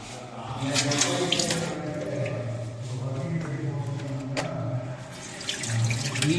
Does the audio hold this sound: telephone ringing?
no